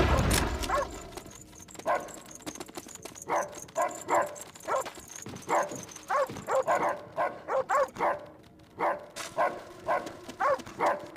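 Dogs in the World War II video game Bolt Action bark in short repeated bursts with whimpers and yips, loud and close, over a low game soundtrack.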